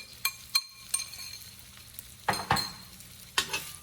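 Thin slices of beef coated in cornstarch and ground black pepper fry in a pan, giving a low sizzle with several sharp scrapes and bursts of stirring. No one speaks.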